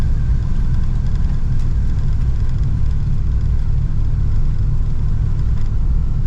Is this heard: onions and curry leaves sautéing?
no